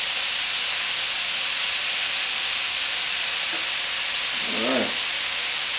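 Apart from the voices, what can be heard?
beef pieces searing in a pot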